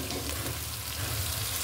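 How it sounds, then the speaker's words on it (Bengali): Chopped coriander leaves frying in a pan, a soft steady sizzle with faint stirring, quiet and close, brief and without talk. "ধনেপাতা কুচি, এটা কিছুক্ষণ আমি একটু কষিয়ে নেব।"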